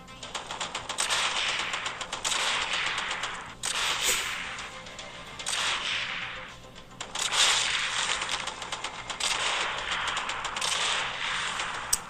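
Rapid gunfire from shooting zombies in the mobile game Zombie Horde, a dense rattle of repeated shots running nearly nonstop with brief gaps, loud and close.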